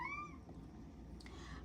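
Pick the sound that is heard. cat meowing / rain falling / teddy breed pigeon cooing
cat meowing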